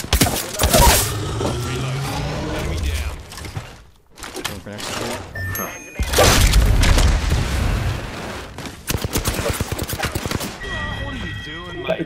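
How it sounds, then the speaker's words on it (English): Gunfire in the Apex Legends battle game: bursts of rapid shots and heavy booms that come and go in loud clusters, with a player talking over the action. "Gun fire east."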